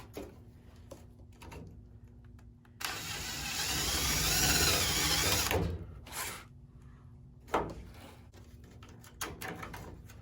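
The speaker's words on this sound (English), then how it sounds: "We're going to open this hole up a little bit because it's not quite big enough for a bolt to go through." A power drill bores out a bolt hole in a front spoiler on a 1968-69 Ford Torino or Fairlane, running in one steady burst of about three seconds with a rising whine, set against a low background hum and scattered clicks and knocks.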